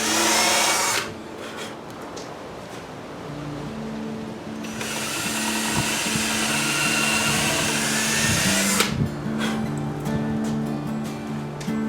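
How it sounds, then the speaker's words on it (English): A power drill bores a pilot hole in wood, whirring steadily for several seconds, cutting out briefly and then spinning up again, close by with a slight change in pitch. "Now we need a pilot hole for the screws"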